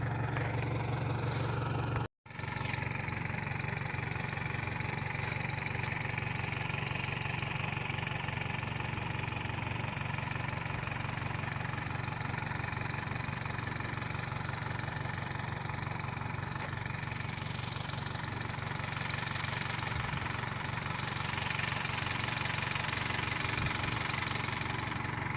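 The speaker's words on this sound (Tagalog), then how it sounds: "Yung motor na naman ng aming caretaker." A motorcycle engine idles steadily and close by for about twenty-five seconds, a constant mid-pitched chugging drone broken only by one brief dropout early on.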